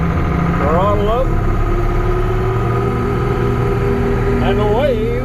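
A John Deere 6620 Titan II combine engine runs steadily and loud throughout, a constant mid-pitched drone with a rise in tone as the throttle comes up, alongside faint tones and chatter in the cab.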